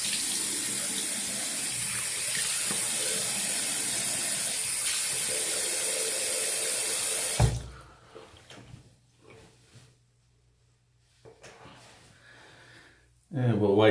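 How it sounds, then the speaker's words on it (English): A razor held under a running tap, with a strong, steady rush of water for about seven seconds that stops abruptly, followed by quiet handling sounds and a short final splash. "I'll give this a rinse."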